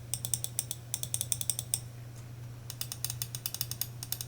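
Pulsar X2 CrazyLight mouse switches clicking in quick bursts of sharp, light mechanical clicks, close and fairly quiet over a steady low hum, with a short pause midway.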